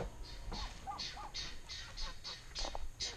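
Guinea fowl calling repeatedly outdoors in a harsh, rhythmic series of short cries about every half second, moderately close over a steady background hum from running water pumps.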